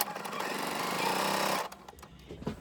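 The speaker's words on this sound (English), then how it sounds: "I'm gonna sew these 2 pieces together first" A sewing machine runs in a steady rapid stitching burst for about a second and a half while joining two quilt pieces, then stops, leaving a few faint handling clicks.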